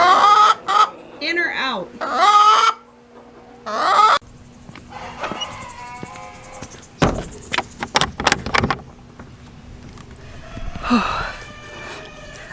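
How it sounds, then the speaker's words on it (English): Female Delaware chickens cluck and squawk in a barn, with intermittent bird calls, a door sliding and rattling, and a person speaking briefly nearby. "And these white birds here, these are the female Delawares."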